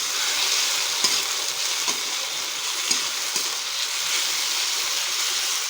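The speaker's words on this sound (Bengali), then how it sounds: "একটু ভেজে নেব ভালো করে সবগুলো একসঙ্গে।" Shrimp and taro leaves fry together in a pan, holding a steady, moderate sizzle with a few soft stirring clicks and no one speaking.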